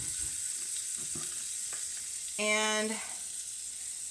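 Butter melting in a pan already heated on the stove for zucchini fritters, giving a steady, close frying sizzle throughout, with a brighter burst of spitting and crackling partway through and a single spoken word near the start.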